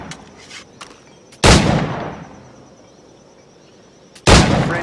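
Two loud, sharp firearm shots in Assassin's Creed IV: Black Flag, one near the start and one near the end, each a broadband blast with a short decaying tail, faint background ambience between them.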